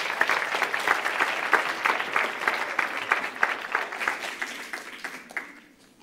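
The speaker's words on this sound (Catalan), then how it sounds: "Un fort aplaudiment per la Laura" Loud, sustained applause from an audience at a university media education event, dense steady clapping that fades away toward the end.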